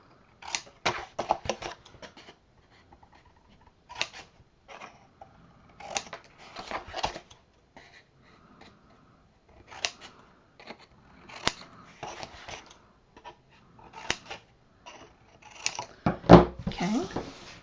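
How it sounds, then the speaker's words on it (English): Scissors snipping and trimming chipboard corners, a scattered series of short sharp cuts and paper rustles at close range, with quiet pauses between bursts. "we're going to trim so that there's nothing hanging over. Again, scissors against the side of the chipboard"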